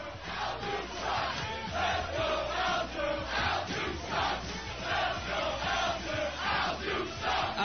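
Fight night crowd roaring and cheering before the main event bout, a dense, steady wall of voices with surging waves of shouts throughout.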